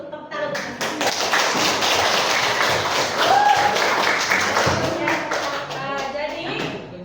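A classroom of students claps after group presentations, a dense burst of applause mixed with voices and chatter throughout.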